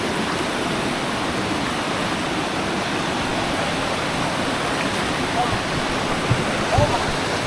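Fast river water rushes loud and close at Lata Sempeneh waterfall in Batu Kurau, Perak, a dense, unbroken roar with a few faint voices underneath.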